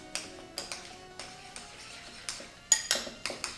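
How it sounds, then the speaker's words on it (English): A bowl of olive oil mixture stirred quickly by hand, a utensil clinking against the bowl in a string of light, sharp taps at an uneven pace, close and fairly quiet with no talk. "I'm just gonna do this by hand because it's easier to just stir it really fast"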